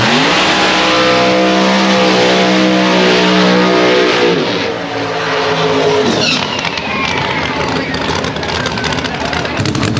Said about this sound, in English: The Canadians chose for Sean to race Chris in his turbocharged Mustang